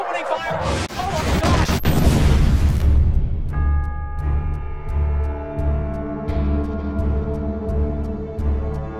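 UFOs attack New York in a film trailer scene, with loud crashing blasts and explosive impacts that dissolve into ringing tonal sound effects and heavy rhythmic low booms, while voices shout over the chaos.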